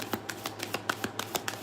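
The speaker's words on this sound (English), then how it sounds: "I'm just shuffling out all the cards until they get the likes up" Playing cards are shuffled, a quick series of crisp riffling flicks and snaps in an even rhythm, close and fairly quiet, with no talking.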